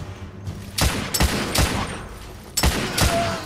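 Gunfire in the video game The Order 1886: five loud, sharp shots in irregular pairs and singles, each a punchy close blast with a short decaying tail over a low background rumble.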